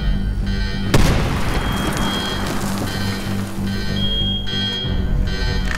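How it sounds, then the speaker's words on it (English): A grenade goes off in the Medal of Honor video game as a single sharp, loud boom, followed by crackling debris and a persistent electronic beeping tone that repeats over the rumble. "Grenade down now."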